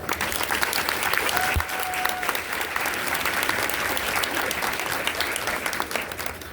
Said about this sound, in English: please help me give a big round of applause.